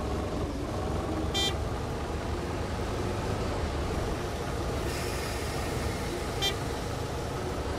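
Two short car horn toots sound in busy traffic, one early and one later, over a steady rumble of vehicles.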